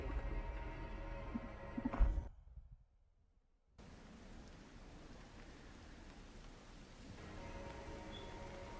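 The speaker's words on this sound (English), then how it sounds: "And outside in the rain, you hear these ghastly sounds." Steady rain falls outside in a night scene of the game Solynod Hex, a dense hiss of drops that briefly drops out to near silence before resuming at a constant, moderate level with no talking.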